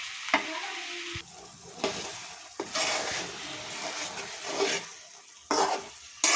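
A tomato stirred in a pot for fried beef brain curry, with scraping and rubbing strokes and a quiet sizzle in between, starting and stopping in separate bursts, near and alone.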